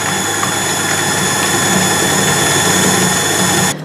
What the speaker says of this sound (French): il ne vous reste qu'à bien mélanger votre crème jusqu'à l'obtention d'une crème bien épaisse